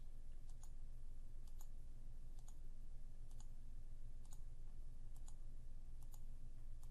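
A computer mouse clicks on objects in Captivate, a handful of faint, evenly spaced single clicks over a low steady room hum, with no talk.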